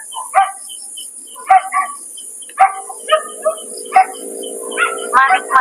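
A dog barks in short repeated bursts at night in a cemetery, about six barks spaced a second or so apart, moderately near, over a steady chorus of crickets and insects, with a low murmur of people nearby.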